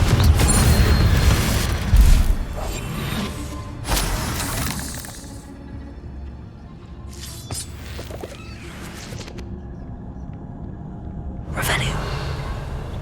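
Confringo explosive spell cast in Hogwarts Legacy, sharp shattering blasts and booming bursts at intervals amid game effects, with a voice calling out spell names at times.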